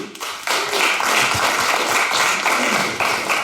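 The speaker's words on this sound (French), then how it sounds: "Alors, Arsène Pelletier, s'il vous plaît, on applaudit" Audience at a Quebec awards ceremony for the Étienne-Chartier prize breaking into applause, a full, steady clapping that swells after a quiet start and holds to the end.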